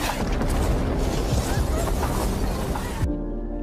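A heavy blast in a dramatic film scene: a broad rumbling roar with crashing debris that holds loudly for about three seconds, then cuts off abruptly to a low lingering hum.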